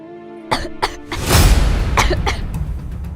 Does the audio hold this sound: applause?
no